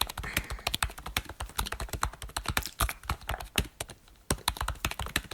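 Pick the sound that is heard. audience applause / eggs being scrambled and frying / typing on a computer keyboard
typing on a computer keyboard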